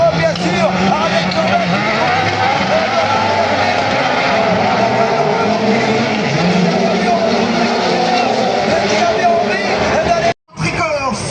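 Autocross race cars at a European championship in Saint-Georges-de-Montaigu, engines roaring loud and continuous with shifting pitch as they brake and race, under a constant commentator's voice and crowd babble, with a brief dropout near the end.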